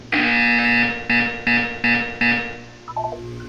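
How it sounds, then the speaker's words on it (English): A buzzer from the Portal 2 video game sounds as a series of loud tonal bursts: one long blast, then four shorter evenly spaced buzzes, followed by a brief chirping electronic tone. "You will hear a buzzer. When you hear the buzzer, look up at the ceiling."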